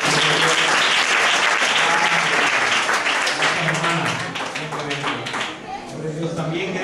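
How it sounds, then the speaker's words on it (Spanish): A church congregation at a Pentecostal carnival applauds loudly and densely, the clapping strongest at first and then thinning slightly, with voices mixed in beneath it. "démosle un aplauso a ella"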